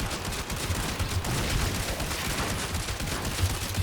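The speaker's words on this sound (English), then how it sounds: "When I can shoot snowballs at people" Stug weapon firing snowball-like projectiles in the video game Warframe, a dense continuous stream of rapid shots with low thumps, loud and steady throughout.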